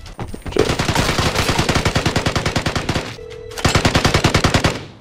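Rapid automatic gunfire in the video game Vigor, sustained bursts of evenly spaced shots with a short pause before another loud burst, close and dominant.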